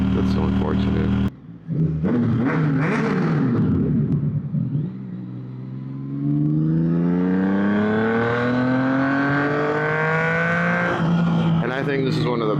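A KTM 990 RCR motorcycle engine revs and rises in pitch as it accelerates, with a brief dip and gear changes before a long climbing whine, loud and close, and a voice comes in over part of it.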